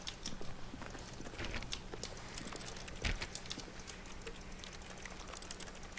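Footsteps in The Stanley Parable tap in quick, light, even clicks that sound like typing on a keyboard, with one louder knock midway.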